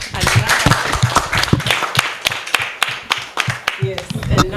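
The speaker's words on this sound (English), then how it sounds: "So let's just give her another clap." An audience claps after a testimony, a loud burst of many hands with distinct sharp claps running steadily throughout, with some talk mixed in.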